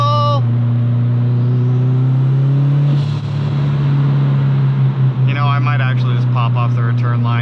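A boosted car engine running on E85 ethanol fuel revs loudly and close, holding a strong steady drone with a couple of throttle swells, while a person talks briefly.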